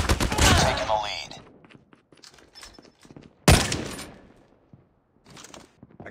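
Bursts of gunfire in a Call of Duty: Mobile match: a loud cluster of shots at the start, scattered softer pops, then a sharp close blast midway, followed by quieter intermittent fire.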